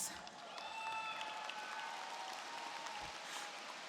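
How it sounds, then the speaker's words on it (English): Graduation audience at a Booker T high school ceremony for the Class of 2024 applauding, a steady wash of clapping from a large crowd that fills the whole stretch at moderate level. "you deserve a round of applause."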